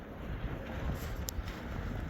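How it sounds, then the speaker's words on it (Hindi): Strong stormy wind blowing near a village river and waterfall, a loud continuous roar buffeting the microphone with no pause. "ये देखो क्या हवाएं चल रही है सब जगह"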